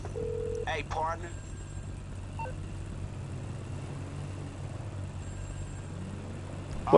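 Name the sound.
phone ringing in video game GTA Online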